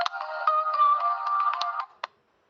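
A phone ringtone plays a bright, steady electronic melody for about two seconds, loud and close, with no talk over it, then breaks off in a short final blip before silence.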